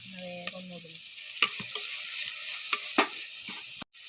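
Chopped onion and tomato with salt sizzle in a pan for a brinjal curry, a steady frying hiss broken by a few light stirring scrapes and knocks.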